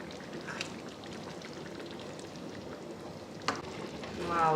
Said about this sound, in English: The water is now boiling.